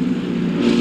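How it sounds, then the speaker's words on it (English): A zombie monster truck's engine in the driving game BeamNG Drive, a steady low droning hum held at an even level for under a second with no talk over it. "I think I hear a zombie monster truck."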